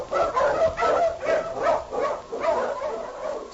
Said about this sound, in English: The Wonder Dog King, swiftest and strongest of Eskimo lead dogs, blazes the trail through storm and snow for Sergeant Preston